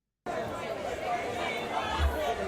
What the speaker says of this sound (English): Police presence was also high as the anxious crowd grew.